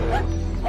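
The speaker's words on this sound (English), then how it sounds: "Just look at this dog chasing away a bear who got way too close" A dog barks while chasing away a bear that came too close to a family home, one short, loud, close bark.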